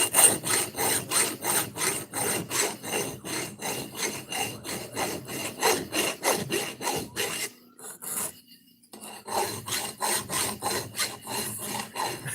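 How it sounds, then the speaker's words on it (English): A hand file is worked over an axe blade in steady rhythmic rasping strokes, close and clear, with a brief pause partway through before the regular back-and-forth strokes resume. "since I'm doing all this filing and everything, cleaning this thing up"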